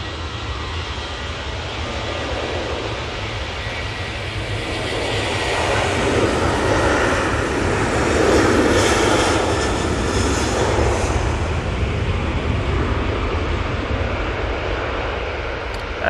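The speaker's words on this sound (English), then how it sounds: "that previous departure was the EasyJet A320 Neo to Corfu" An EasyJet Airbus A320neo departs Manchester Airport bound for Corfu, a loud sustained jet engine roar that swells toward the middle and stays heavy throughout.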